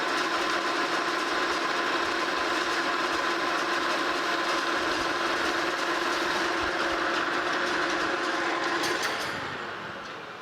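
A metal lathe cuts down a new arbor for a General Model 350 table saw, giving a loud, steady whirring drone with a constant whine that tapers off in the final second.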